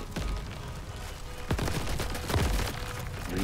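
Sniper fire in the game Crab Champions rings out as several sharp shots over a busy, rumbling game background, the strongest cracks landing in a cluster partway through.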